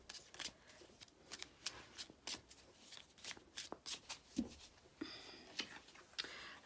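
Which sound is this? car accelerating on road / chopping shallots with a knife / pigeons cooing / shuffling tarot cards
shuffling tarot cards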